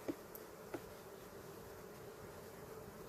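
Honey bees hum faintly and steadily around a honey harvest, a soft continuous buzz with a couple of brief clicks near the start.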